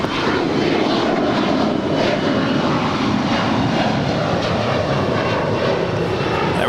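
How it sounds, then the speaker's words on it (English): A United Airlines Boeing 787-9 Dreamliner airliner arriving at LAX from Tokyo Narita, a steady, loud broadband engine roar that holds evenly throughout, with no talk over it. "That right there is United Airlines Flight 33 coming in from Tokyo Narita. It's a 787-9 Dreamliner making her way over to Terminal 7 here on the south side"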